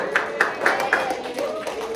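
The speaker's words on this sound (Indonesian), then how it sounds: "terima kasih, tepuk tangan untuk Deo." Soft, faint hand claps from a primary school class repeat at an even pace, four or so close together, then trail off under quiet background noise.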